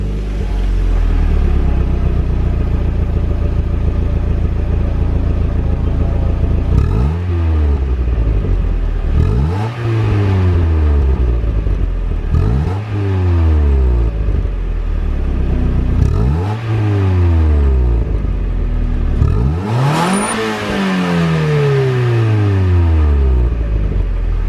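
A warmed-up Mazda Miata NA on its stock exhaust is revved several times from low rpm up to its 7,000 rpm redline. Each loud, close blip rises sharply and then falls back to a rumbling idle, with about five revs in sequence.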